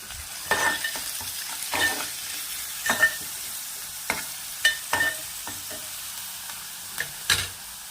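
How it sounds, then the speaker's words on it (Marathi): Onion sautéing in oil with a little salt until reddish, a soft continuous sizzle punctuated by irregular spoon scrapes and taps against the pan, close and without talk. "कांदा लाल होईल तोपर्यंत परतवून घ्यायचा तेलामध्ये"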